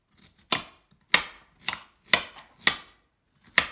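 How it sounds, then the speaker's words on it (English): A knife chops a carrot in half on a cutting board in six sharp, evenly spaced thuds, each crisp and close, with silence between strikes. "I'm just going to cut it in half this way so that each of those pieces is a little bit more"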